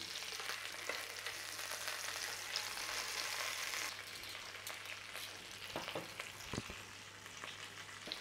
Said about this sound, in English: It needs searing round in the pan.